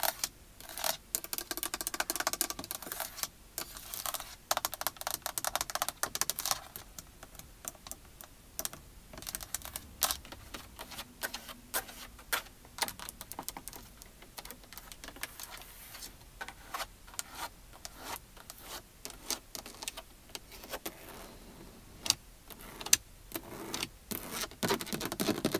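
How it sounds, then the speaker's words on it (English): Rapid, dense tapping and scratching on a car's interior plastic surfaces, with close, crisp clicks in irregular bursts that continue steadily throughout, alone with no talking. "Lots of plastic sounds on this car."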